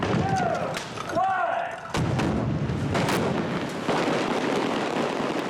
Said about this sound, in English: one of the big effects in the sequence was a series of explosions with a car getting flipped